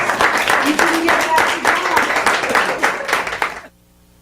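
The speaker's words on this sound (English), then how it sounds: "Give yourselves a strong round of applause." An audience of coaches at an educational workshop gives a round of applause: dense, steady clapping with a few voices mixed in, cut off abruptly near the end.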